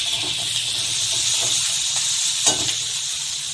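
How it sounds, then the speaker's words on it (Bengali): Potatoes fry in hot oil for a Bengali amudi fish curry, a close, continuous sizzling hiss with a few scattered pops and crackles and no speech. "আলুটা একটু ভাজা হবে"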